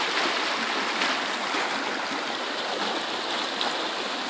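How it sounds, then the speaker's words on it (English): A fast-moving mountain stream along a hiking trail rushes steadily and close by, a dense, continuous wash of water with no pauses and no voices. "Comes right out of a fast moving stream."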